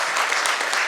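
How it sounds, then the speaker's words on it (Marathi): Audience applause at a Marathi gathering, a steady wash of many hands clapping together for an honoured elderly guest, filling the whole moment without pause. "सगळ्यांनी टाळ्या वाजवल्या पाहिजेत"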